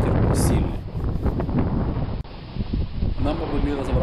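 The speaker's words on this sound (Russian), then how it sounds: "Потому что действительно ветер сильный." Strong wind buffets the microphone at a paragliding takeoff site in Netanya, Israel: a continuous, loud broadband roar with gusty swells, mixed with what sounds like voices.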